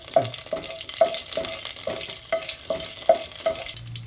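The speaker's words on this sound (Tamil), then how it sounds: "ஒரே ஒரு இந்த இலை பேலீஃப் பிரிஞ்சி இலையும் கொஞ்சோண்டு சோம்பு, சீரகம், கொஞ்சம் மிளகு இது போட்டு தாளிச்சிக்கோங்க" Bay leaf, fennel seeds, cumin and black pepper sizzle in hot oil for a chicken kuzhambu, a steady close crackle broken by a few sharp pops and quick stirring scrapes.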